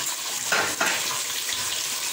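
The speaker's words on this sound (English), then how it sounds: "There it is, all frying away, looking lovely as well." Steady, dense sizzling of fish frying in a pan for Jamaican brown stew fish, with a couple of slightly louder spits and crackles, close up and continuous.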